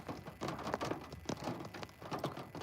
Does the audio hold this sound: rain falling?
yes